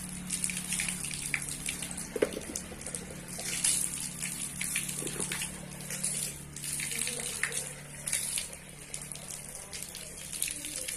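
A tap runs water for ablution, with the flow turned down, giving a steady, close gushing stream splashing into a basin, and a voice speaks faintly in the background.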